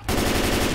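Sustained automatic fire from an M4 rifle in Left 4 Dead 2, a loud, rapid unbroken burst of gunshots close up, with no talking over it.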